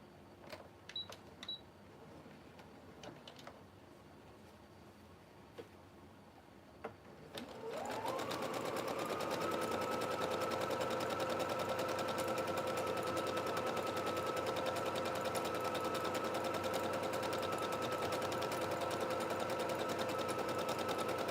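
An electric sewing machine stitches Ankara fabric for a bonnet, folding a casing for elastic; after quiet handling noises, a steady whirring motor hum starts near 8 seconds and runs continuously, close and clear.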